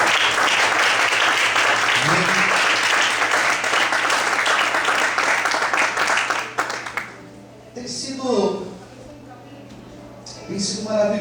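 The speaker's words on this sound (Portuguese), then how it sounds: "Vamos aplaudir ao Senhor da vida." A church congregation applauds together during a service, a dense, sustained wash of clapping lasting several seconds before it breaks off and a voice begins speaking.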